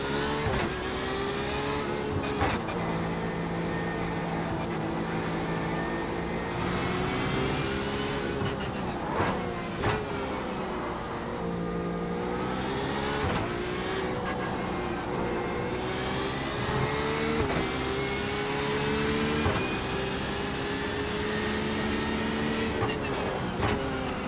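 A race car engine in the iRacing simulator drones loud and continuous, pitch rising and falling through upshifts, downshifts and braking zones over a long lap stretch.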